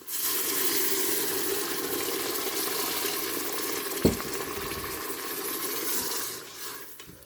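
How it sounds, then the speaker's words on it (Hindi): A cup of water is poured into boiled chickpeas in a pressure cooker, a steady close splashing gush that runs for several seconds with one brief clunk midway, then tapers off. "1 कप पानी मैं इसमें डालूँगी।"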